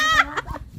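A chicken gives a short, close, loud cluck, followed by a few quick softer clucks.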